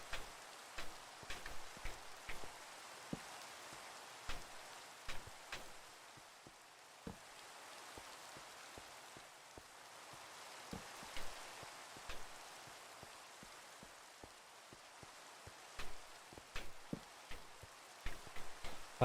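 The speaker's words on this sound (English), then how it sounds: "Of course, it has to be raining" Steady Minecraft rain hisses softly and evenly, with scattered sharper droplet ticks and light taps throughout, no voices over it.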